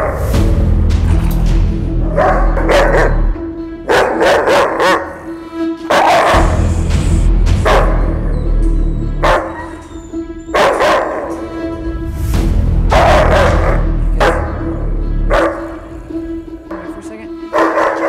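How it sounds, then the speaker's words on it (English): Aggressive German Shepherd barking loudly and close in repeated bursts of deep barks, with brief pauses between volleys and some whimpering. "he's probably going to bark at me"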